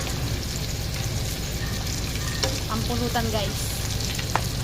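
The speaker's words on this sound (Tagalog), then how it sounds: "nagpiprito ng chicharong bulaklak" Steady, dense sizzling of chicharon bulaklak, pork intestines deep-frying in hot oil, with occasional pops and crackles and a brief spoken remark over it.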